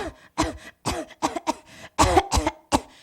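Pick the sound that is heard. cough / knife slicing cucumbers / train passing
cough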